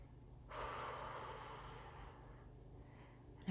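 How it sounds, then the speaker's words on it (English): One long, deep inhaled breath, close and airy, rises suddenly and trails off slowly over a few seconds, alone with no talk. "take a deep breath"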